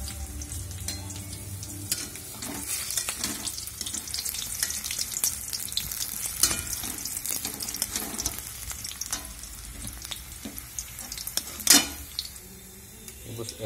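Onions sizzling and frying in oil in a pan for anda bhurji, a steady close crackle with occasional clinks of a spoon stirring against the pan, continuous throughout.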